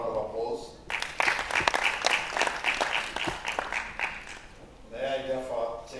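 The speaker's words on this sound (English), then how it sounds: "another round of applause" Audience applause breaks out at a candle light day ceremony, a dense burst of clapping lasting a few seconds before tapering, with a speaker's voice briefly heard before and after.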